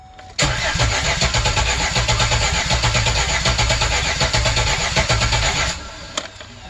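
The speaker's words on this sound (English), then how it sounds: "I might actually try to start it with the exhaust manifolds off for like a brief second." A 2008 Express van engine, with its exhaust manifolds removed, cranks and catches, then runs loud and rough with a steady rumbling chug for several seconds before cutting off.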